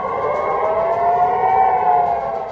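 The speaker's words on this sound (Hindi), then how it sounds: "शहर में हमले से अलर्ट करने के सायरन बजने लगे" A steady wailing air raid siren warning of a rocket attack on a city in Israel holds a sustained rising-and-falling tone, loud and continuous throughout, with no voices.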